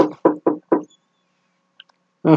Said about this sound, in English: After a while, they both hear a knock at the door.